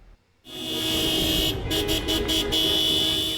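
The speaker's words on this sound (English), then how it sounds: "Honks echoed outside the Tennessee Capitol this afternoon" Car horns honk repeatedly in a cluster of short toots over steady traffic noise and outdoor crowd ambience at a protest outside the Tennessee Capitol.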